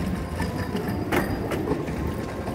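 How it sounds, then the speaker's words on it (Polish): The newest Warsaw tram arrives at the Marymont metro stop, wheels rumbling and clacking over the rails, with a few sharp metallic clicks and squeals near the middle, moderately loud and close, with no talk. "Wkrótce przyjedzie tu najnowszy warszawski tramwaj."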